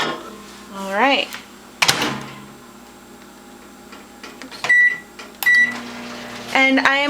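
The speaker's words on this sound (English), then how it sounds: "I am going to microwave on high until the water starts to boil" A microwave oven on high heats tea-dyed yarn samples in water: a steady hum, a door clunk, and several bright electronic beeps in short bursts near the end.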